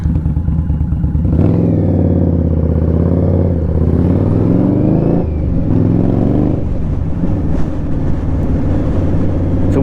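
Indian Scout Bobber motorcycle with a very loud exhaust ridden through an enclosed space, a deep, rumbling engine note that swells and drops with throttle changes, close and continuous.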